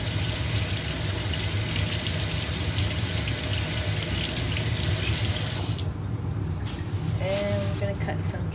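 A small apple washed under a running kitchen tap, a steady close gush of water into the sink for most of the clip, then the flow cuts off, followed by faint handling sounds.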